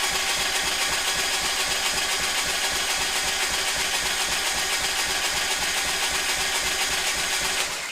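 A Harley-Davidson Sportster engine with a freshly installed camshaft spins over on the starter without firing, giving a steady, loud, fast rhythmic churning drone that holds evenly for the full stretch.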